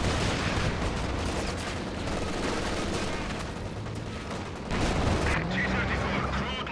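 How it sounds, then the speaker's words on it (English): Heavy artillery barrage in a strategy video game, a dense continuous rumble of overlapping booms and distant blasts, steady and loud throughout without pauses. "Some major artillery coming in."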